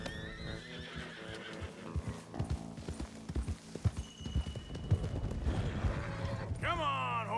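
Horse hooves clip-clop in a quick irregular rhythm in Red Dead Redemption 2, alongside whinnies and game mechanical noises, ending with a high sweeping tone.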